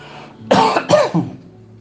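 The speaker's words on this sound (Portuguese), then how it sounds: "Vou beber um pouco de café e tossir." A man coughs twice in quick succession, harsh and close, with a lighter throaty tail after, alone over a faint steady hum.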